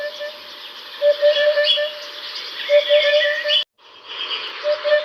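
A colourful hoopoe with a long probing bill and cinnamon body calls in open grassy country, steady repeated low hooting notes over a bed of higher bird chatter, with a short silent break near the end.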